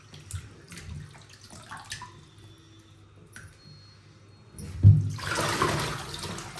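Leafy greens being washed in water several times: quiet handling at first, then a sudden loud rush of running, splashing water that continues steadily to the end, with no speech.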